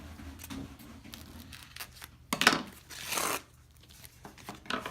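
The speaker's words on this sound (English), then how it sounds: "I'm cutting the leaf, yeah." A bamboo leaf is cut in a workshop, giving a few short rasping tears and a longer slicing swipe, close and fairly quiet against a faint room hum.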